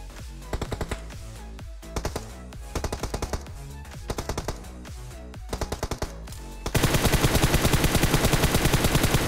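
Rapid automatic gunfire in a mobile shooter game comes in short repeated bursts, then one long sustained burst at the end, loud and close with no talk.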